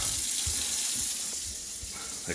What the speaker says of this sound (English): Let's try warm water.